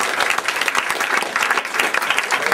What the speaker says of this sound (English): I'd like to get applause.